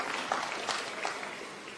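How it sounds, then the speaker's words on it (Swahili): A stadium crowd at a prayer gathering in Kenyatta Stadium, Machakos, claps in a faint, distant, continuous wash of applause that lasts a couple of seconds. "pigieni makofi."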